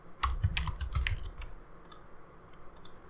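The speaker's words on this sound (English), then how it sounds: "let's type in something" Bursts of clicks from a computer keyboard being typed on, several quick keystrokes in two short runs, then a few lighter isolated taps, close and clear with no voices.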